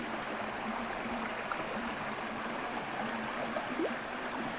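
A river in the Grand Canyon of Crimea runs over stones, giving a steady, even rushing and babbling that fills the air continuously, close by, with no voices.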